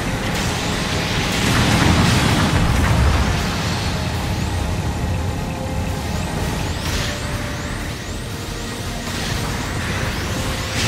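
A mobile suit blows up in Gundam Battle Operation 2, a loud rumbling blast swelling early and then fading into sustained heavy mechanical roar and hissing battle noise, with no talk.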